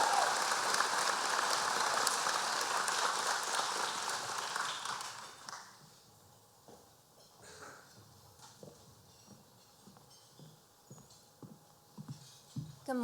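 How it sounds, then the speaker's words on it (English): Applause at a bar association breakfast event greets the Orange County Bar Association president: dense clapping for about five seconds fades into a few scattered claps and faint room noise. "Please give him a round of applause."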